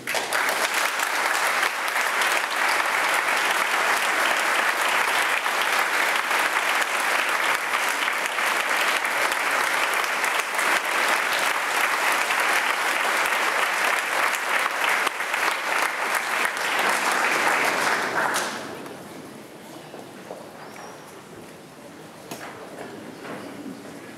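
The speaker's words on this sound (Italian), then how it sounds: "vi prego di accogliere con il giusto applauso il direttore d'orchestra" A concert audience applauds at a Polizia di Stato band concert in Novi Ligure, Italy, greeting conductor Maurizio Villi with long, loud, sustained clapping that drops away sharply near the end into quieter room noise.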